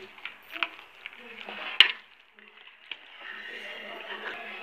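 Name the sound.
stirring a potato mixture for a cake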